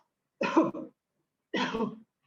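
A person coughs twice, well apart, as a deliberate cough during a yoga breathing exercise, close and clear against silence.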